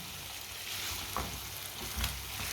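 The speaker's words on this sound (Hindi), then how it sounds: "अब इसे अच्छी तरह मिक्स कर लेंगे।" A potato dish cooking in a pan gives off a constant hissing sizzle as it is stirred, with a couple of brief spoon scrapes against the pan.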